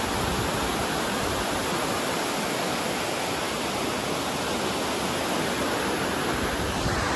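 Water rushing steadily at Vashishti dam, a dense, loud, unbroken roar of flowing water heard close by with no other sounds.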